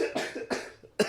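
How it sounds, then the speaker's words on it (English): A single person coughs in three harsh, close bursts spaced across about a second, each a short rough hack with a brief lull between them. "I was doing quite well containing my cough up to this point"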